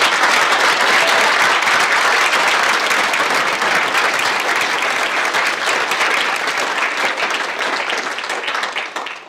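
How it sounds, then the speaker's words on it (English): Loud, dense applause from a concert audience for high school band and choir students at a spring concert, sustained evenly through the whole stretch and only starting to thin at the very end. "So one more round of applause for these great."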